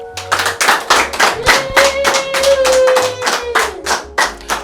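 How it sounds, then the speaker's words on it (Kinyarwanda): A congregation clapping for God in steady, rhythmic unison, about a dozen sharp, loud claps in a regular beat, with a held voice tone sounding underneath for part of the time. "Mubanze muhereze Imana amashyi."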